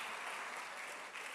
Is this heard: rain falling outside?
no